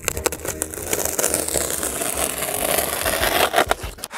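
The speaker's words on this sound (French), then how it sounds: "Avant, je vais découper l'isolant." Cutting car floor insulation for the boot floor of a Dacia Duster, a steady rough scraping and tearing texture running continuously at close range, with a few sharper knocks near the end and no talk.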